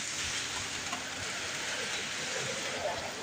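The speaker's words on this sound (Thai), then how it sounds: "นี่ก็ฝนตกครับวันนี้นะฮะ ฝนตกแล้ว" Steady rain pours down, a dense, even hiss of drops hitting surfaces, continuous throughout with no voices standing out.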